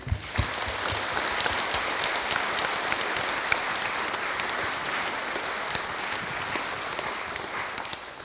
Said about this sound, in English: So can we give her a round of applause, please?